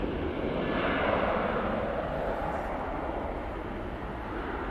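A Ryanair airliner begins its takeoff roll at Manchester Airport, a steady broad engine roar heard from a distance, constant and unbroken, with no voices.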